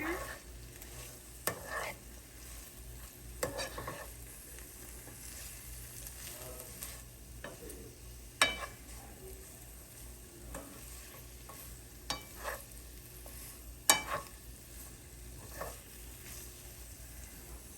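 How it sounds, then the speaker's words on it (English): Chicken liver and onion frying in a pan, stirred with a soft, steady sizzle and occasional sharp taps and scrapes of the utensil against the pan, fairly quiet and close. "give it a good stir."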